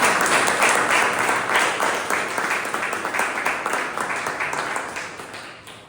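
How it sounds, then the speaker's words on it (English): A Toastmasters club audience claps for a budding speaker during a meeting; dense, sustained applause fills the room from the start and slowly tapers over several seconds. "a big round of applause for him"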